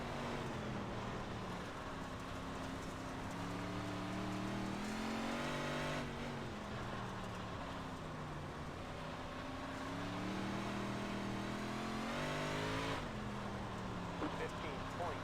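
Race cars take the green flag at the start of an official race, engines revving and climbing through the gears in repeated rising pitch sweeps that sound close and steady, with a voice speaking over them.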